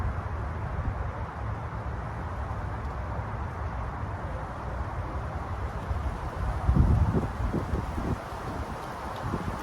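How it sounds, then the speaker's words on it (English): Steady warm outdoor breeze blowing across the microphone as a constant broadband rush, with a brief louder gust or bump near the end; no talking. "It's so warm and breezy today."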